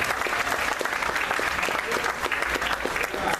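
A church congregation gives a burst of steady applause at a worship service, dense clapping from a crowd that continues for several seconds with voices mixed in.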